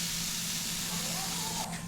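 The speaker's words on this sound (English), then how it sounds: "Throw this puppy on the grill. Sizzle. Definitely sounds like a burger" A burger patty sizzles on a grill as fat drips into the flames, giving a steady, loud, close hiss that holds unbroken throughout.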